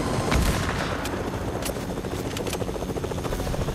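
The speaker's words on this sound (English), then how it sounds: "Our chopper is very low." A video game helicopter flying low over the ground, with a continuous thumping rotor roar that is loud and close, along with scattered bursts of gunfire.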